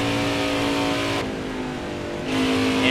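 Stock race car engine in NASCAR Heat 4, a loud sustained buzzing roar that drops in level as the throttle eases, then surges back up near the end.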